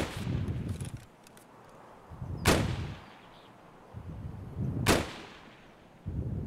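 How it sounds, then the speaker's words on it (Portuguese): Enemy gunshots in Escape from Tarkov on the Woods forest map, two loud, sharp reports a few seconds apart, each with a rolling echo tail, over quieter rustling movement between them. "Eu tô escutando ele atirar do meu lado em você."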